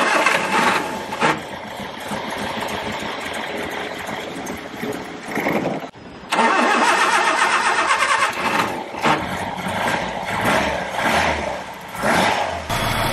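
A 1969 Ford Capri barn-find engine, fuel now fed to its carburettor, runs loud and rough up close, cuts out briefly, then catches again and roars on steadily with no voices.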